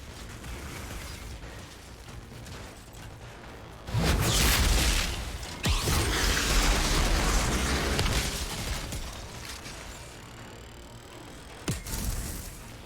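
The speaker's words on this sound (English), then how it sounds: "Mortar shells?" Mortar shells burst in the Outriders video game: heavy booming explosions rumble over a dense, noisy battle backdrop, with a sudden loud surge partway through and further sharp blasts near the end.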